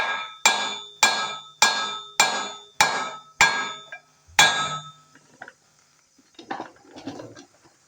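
A hammer taps a U-joint into the yoke of a Dodge D350 driveshaft: seven sharp, ringing metallic strikes at an even pace, then a pause and some softer clinks and handling noises.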